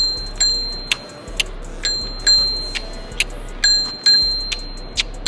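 A bicycle bell on a city bike in New York rings again and again, each bright metallic ding loud and close, repeating roughly every half second with ringing decay between strikes.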